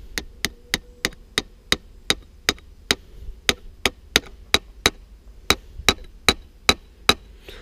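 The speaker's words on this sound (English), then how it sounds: "Got my hammer and just tap it in." A hammer taps a metal spout into a maple tree trunk, about twenty sharp, evenly spaced knocks ringing close and clear with a slight woody resonance, alone against a quiet outdoor background.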